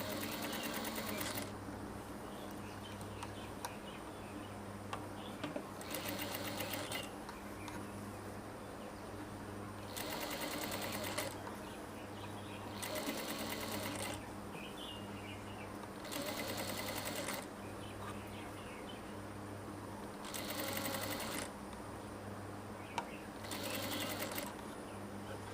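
A sewing machine stitching folded thread piping on a blouse neck, running in repeated short bursts of rapid buzzing stitches separated by quiet pauses, close and clear.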